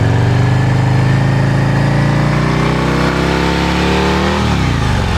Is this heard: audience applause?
no